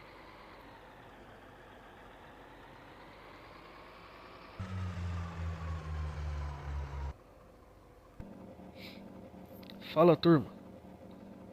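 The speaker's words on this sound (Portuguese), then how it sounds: "Começou um barulho aqui no motor." A truck engine idles at a fuel station with an odd fault noise, a steady low drone that swells into a louder rumbling stretch, and someone speaks briefly near the end.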